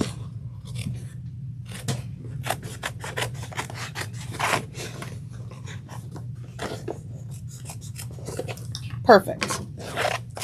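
Scissors snip and rasp through tote bag fabric in a quiet room, a run of short crisp cuts trimming the edges, with soft handling noise and a brief spoken word near the end.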